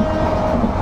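A passenger train running late and racing toward Chittagong at its top speed of around 75 km/h produces a steady, close, broadband rumble of wheels on rails with no voices.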